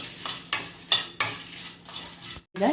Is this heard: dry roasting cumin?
yes